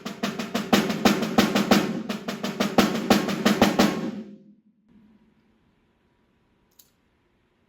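A solo snare drum audition excerpt played as one long crescendo with accented strokes: rapid, dense close hits that build and then stop, leaving a near-silent tail with a single faint tap.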